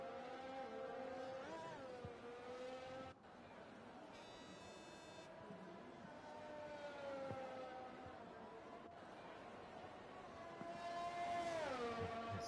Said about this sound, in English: We're starting to see some drivers make their way out of the pits very early on.